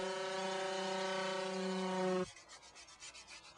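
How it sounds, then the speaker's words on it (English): A power sander works boat hull gel coat with 60 to 80 grit, a steady droning hum that cuts off abruptly, followed by softer, uneven rubbing and scuffing. "we can give the hull a final going over with a 60 to 80 grit to get rid of the last of the shine"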